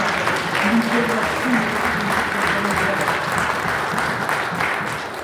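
A church congregation applauds, a steady wash of many hands clapping at a fairly even level through the whole stretch, with faint voices mixed in beneath it.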